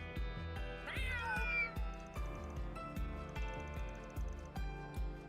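Video game cat from Trails Through Daybreak meowing once in a clear rising-falling call over steady rhythmic game music, with soft beats continuing throughout.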